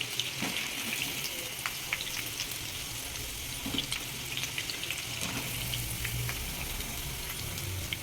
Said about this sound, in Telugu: ఈ జీడిపప్పు కూడా వేయించుకోవాలండి